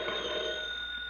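A crank telephone's bell rings out one of three long fire-alarm rings for a volunteer fire department, a continuous, even metallic ringing that sustains throughout, close and uninterrupted by speech.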